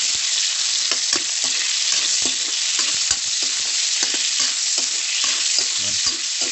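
Meat sizzles and fries loudly in a hot pan while being sautéed for adobong gulay (utan), with steady crackling broken by frequent scrapes and stirs of a utensil, close up and continuous.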